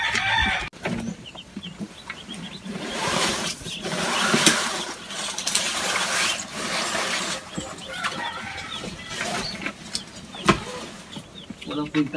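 Chickens cluck and roosters crow repeatedly in a farm coop shaded with banana leaves, loud and close, with overlapping calls, bird chirps and some background talk.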